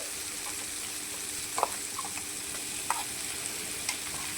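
Ginger, garlic and green chilli paste fries in a pan for veg noodles with a steady hiss, broken by a few light stirring clicks close by.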